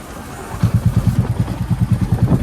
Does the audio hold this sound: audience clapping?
no